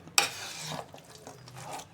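A utensil scrapes and stirs through thick amla (Indian gooseberry) chutney with jaggery in a pan, soft and close, with a faint sizzle and one sharp clack at the start.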